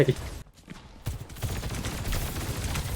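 Rapid bursts of gunfire in a close-quarters Overwatch 2 firefight, crackling continuously under excited voices and game effects, with a short lull before the shooting resumes.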